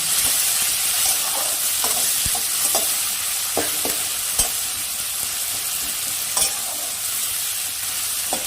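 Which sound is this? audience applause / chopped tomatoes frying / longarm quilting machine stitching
chopped tomatoes frying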